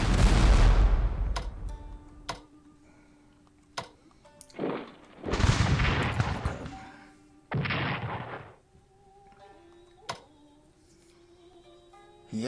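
Artillery bombardment in the Strategic Command 1904 war game, several heavy booming blasts with rumbling tails separated by short pauses, with small ticks and tones from the game in between.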